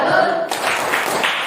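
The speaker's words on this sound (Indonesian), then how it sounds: "Kita beri tepuk aplaus, tepuk salut dulu untuk kelompok 1 dan kelompok 2." Group clapping in a classroom salute cheer for two student groups, starting with a voice and then breaking into a brisk burst of rhythmic claps that carries on to the end.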